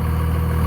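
A Cummins diesel engine idles with a suspected internal knock, a close, loud, steady low rumble with a faint regular pulse running through the short stretch.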